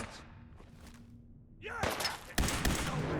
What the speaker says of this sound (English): These lasers go everywhere,